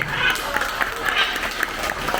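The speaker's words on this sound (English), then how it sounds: "Well, they're all cheering for you, buddy." A live crowd at a parrot show at Theater of the Sea in Islamorada, Florida, claps and cheers for a performing parrot, a steady wash of applause with scattered brighter claps throughout.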